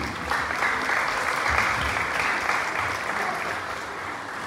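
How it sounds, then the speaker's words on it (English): Sustained applause from a funeral crowd, steady and fairly loud, with many hands clapping together in a continuous wash of sound. "Continue clapping."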